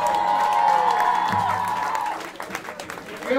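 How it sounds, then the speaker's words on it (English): A packed room at a live gig at Will's Pub claps and cheers, a dense wash of applause with a voice calling out over the start, thinning to scattered claps and whoops. "Give me a round of applause to yourselves."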